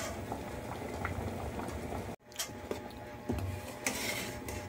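Mung beans simmering in a pot give a steady bubbling boil, briefly cut off midway before the bubbling and occasional pops resume close by.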